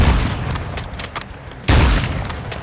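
Mortar strike in Warzone 2, with rumbling gunfire and booms followed by a sudden loud, deep explosion about two-thirds through that rolls on with heavy low rumble.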